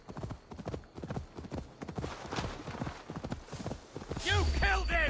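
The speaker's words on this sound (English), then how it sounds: "Si me ven ir tanto con el caballo por el agua, no se preocupen" Horse hooves clopping in Assassin's Creed Valhalla, a steady galloping rhythm with a whinny near the end, heard under continuous talking.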